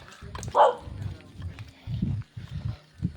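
Several low, gruff barks come in a rough series, fairly close, with one sharper yelp early on.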